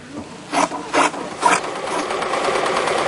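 A sewing machine stitches handmade blankets, giving three short, loud mechanical bursts of rapid rattling stitching, followed by a steady whirring, clattering hum that continues to the end.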